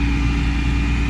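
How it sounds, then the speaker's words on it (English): Steady engine rumble from cars on a road, a low continuous drone with a faint constant whine above it, close and unbroken throughout. "There's a car coming on that side, and then there's 2 cars coming on this side."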